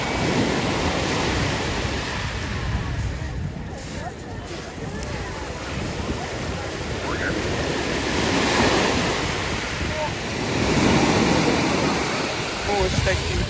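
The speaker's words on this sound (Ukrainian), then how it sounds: "І ось таке чудове в нас море." Sea waves breaking on a pebble beach at a resort in Alanya, a continuous roaring surf with periodic swells and wind buffeting the microphone, someone talking over it at times.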